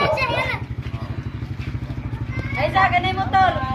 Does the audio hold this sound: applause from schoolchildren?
no